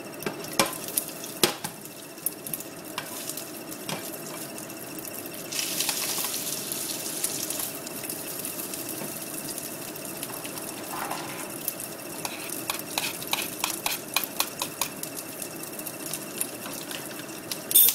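Garlic fries in fat in a pan for fried rice, a steady close sizzle with clicks and bursts of spattering, a louder surge of hiss partway through, and no voices.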